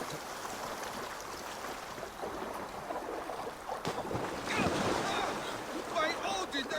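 Water sloshes and splashes around a character wading into the cold sea in Assassin's Creed Valhalla, a steady wash of swirling water and surf that swells louder toward the end, with faint talk mixed in.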